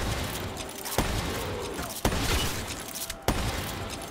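Gunfire from a video game gun in a box roulette match: three sharp, separate shots about a second apart, standing out over a steady, busy game background.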